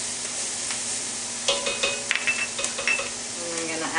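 Fennel and thyme soften in a pan, a quiet steady sizzle that later gains scattered scraping and clinking from stirring utensils.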